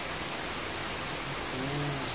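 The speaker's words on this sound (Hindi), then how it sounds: "बहुत तेज बारिश हो रही है" Heavy rain pours down in a dense, continuous hiss that fills the whole scene, steady and loud with no breaks. Faint low tones show up near the end.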